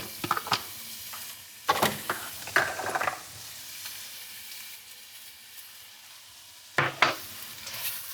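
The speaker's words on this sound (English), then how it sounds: "I already have some butter melted down. So to that, I'm gonna add shallot, garlic, bay leaf, and a little bit of red pepper." Shallot, garlic, bay leaf and red pepper sizzle in melted butter in a pan, a steady frying hiss broken by sharp clatters of stirring near the start and again toward the end.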